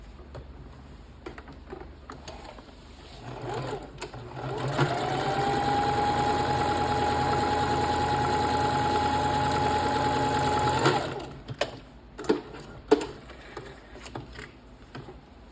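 A sewing machine runs a quarter-inch seam along the short edge of fabric for a scrunchie, a steady close whirring hum lasting about six seconds, framed by quieter handling clicks and fabric rustle before and after.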